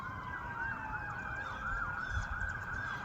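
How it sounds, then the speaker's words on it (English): Emergency sirens wail in the distance, several overlapping tones sweeping up and down steadily over a low background rumble. "It's those sirens again."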